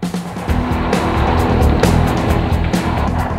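A 2004 Chevy Malibu Maxx wagon on the road, a loud, continuous engine drone and tire rumble close by, steady throughout with no speech.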